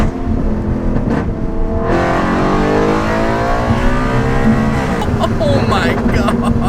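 An Audi RS5 B8.5 V8 engine revs and accelerates hard, its rising pitch sweeping upward through the gears, loud and close from inside the car, with people talking over it.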